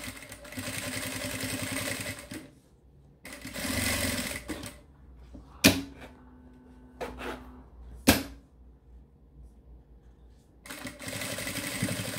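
A sewing machine runs in several bursts of stitching along fabric close to a zipper, loud and steady during each run, with pauses and a couple of sharp clicks between them.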